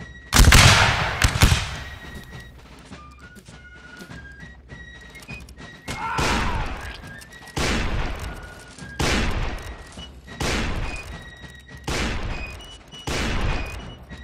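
Musket volleys crack out during infantry drill in the Mount and Blade video game, several loud ragged fusillades every second or two, with horses whinnying and hooves between the shots.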